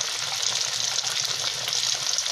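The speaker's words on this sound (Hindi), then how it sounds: "अच्छी तरह इनको रोस्ट करना है।" Fish pieces roasting with spices in a pan at a village hut, a steady close hiss and sizzle of hot oil with faint stirring, continuous and even, no voices.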